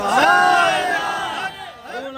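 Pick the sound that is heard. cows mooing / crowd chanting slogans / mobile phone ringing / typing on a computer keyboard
crowd chanting slogans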